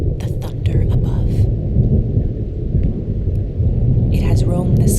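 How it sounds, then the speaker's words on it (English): Deep thunder rumbles steadily overhead through a rainstorm over Manhattan, loud and sustained, with a voice speaking in bursts over the storm. "hear it? The thunder above."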